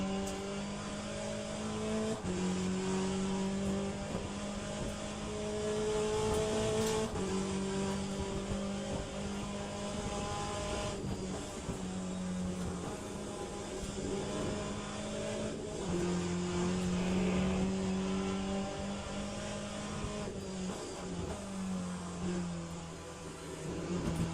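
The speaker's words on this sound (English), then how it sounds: "is this car a bit less loud than the LMP2 or the hypercar" A race car engine in the game Le Mans Ultimate drones steadily, pitch climbing and dropping as it shifts through gears, loud and continuous with no voices.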